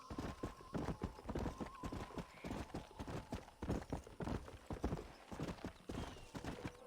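Horse hooves clip-clop steadily in Red Dead Redemption, a fast, dense rhythm of sharp hoof strikes running throughout at moderate loudness with no talk over them.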